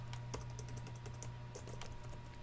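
Steady computer keyboard typing while entering code, a continuous run of quick, close key clicks with a few sharper taps and low background hum.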